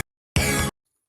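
A single short house stab sample from the Vengeance Essential House 3 loop pack, one bright, dense chordal hit lasting about a third of a second and then cut off cleanly into silence.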